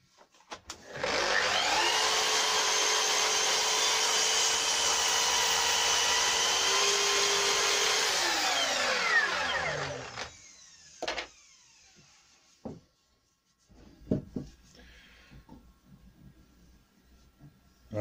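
A power tool chamfers the end of a wooden bracket for a porch canopy, a loud steady high-pitched whine running about eight seconds before spinning down, followed by scattered knocks and handling of the wood.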